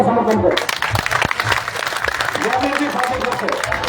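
Crowd clapping at a protest sit-in near a toll plaza in Gurugram, dense applause continuing throughout while someone speaks over it on a loudspeaker.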